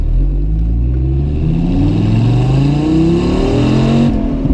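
A naturally aspirated car pulls away and accelerates hard, its engine note climbing steadily in pitch as it revs through the gears, loud and close from start to finish with no talking.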